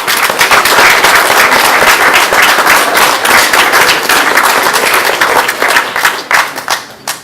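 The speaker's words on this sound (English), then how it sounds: "I'm sure the students would like to give them a round of applause for all the efforts they've put this year." Students at a college art and design final year show give a vigorous round of applause, loud, close and dense sharp claps sustained throughout before thinning out at the end.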